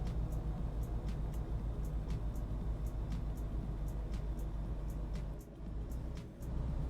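A truck engine in a driving video game labours and strains under load, a steady loud drone with a faint periodic ticking running through it, dipping briefly near the end.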